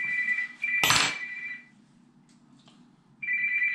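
A phone rings with a steady electronic tone, two ring bursts separated by a pause and a short clatter, close and clear in a quiet room.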